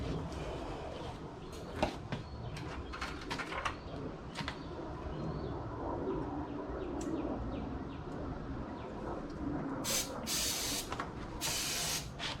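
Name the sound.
starting fluid sprayed into Corvair engine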